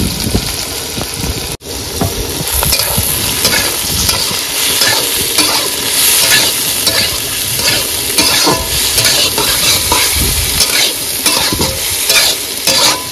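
Soybean chunks and potatoes frying in a pan with a loud, continuous sizzle, overlaid by steady scraping and clattering as they are stirred, close and without talk.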